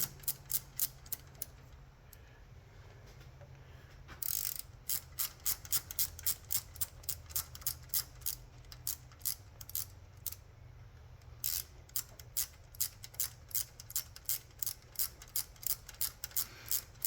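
A ratchet wrench snugs down bolts on the pushrod covers of a 1961 FL Panhead engine, with quick close clicking bursts broken by short pauses and then long regular runs of clicks.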